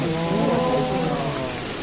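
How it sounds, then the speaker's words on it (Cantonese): Heavy rain pours down in a steady, dense wash during a river crossing at night, loud and close, with a low rumble mixed in and no voices. "呢場雨太大啦"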